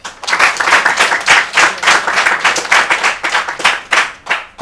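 A crowd claps at a political campaign rally, a dense and fairly loud round of hand claps in irregular bursts that lasts the whole time, with no voices over it.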